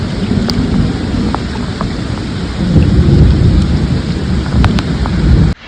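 Heavy rain pours steadily, and low rolling thunder swells beneath it and grows louder midway. No voices are heard, and the downpour stops abruptly at the very end.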